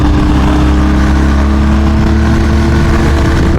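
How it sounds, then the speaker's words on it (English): A steady, high whine from motorcycle tires rolling on the road on a BMW R1250GS, over a constant smooth boxer engine drone and wind noise, with no talking. "The tires are singing on this."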